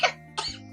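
Two brief coughs from one person, a short burst followed by a second slightly longer one, close and fairly quiet over a steady low hum.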